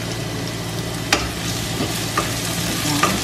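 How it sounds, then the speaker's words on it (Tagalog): Garlic sautéing in a hot pan with cubed sweet potato, a steady close sizzle broken by a few sharp stirring knocks, alone without talking. "igisa na po natin sa bawang"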